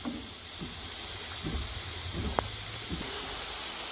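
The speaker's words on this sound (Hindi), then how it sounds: "अब तकरीबन से ये 2 से 3 मिनट के लिए अच्छे से हम फ्राई करेंगे इसको।" Onion sizzling and frying in a pan for chicken karela, a steady broadband hiss throughout with faint low pops and crackles, one brief sharp click partway through, no talk.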